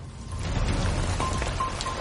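Steady rainfall on a rainy day in Vancouver, a continuous broadband patter of drops hitting surfaces, fairly close and even in level throughout.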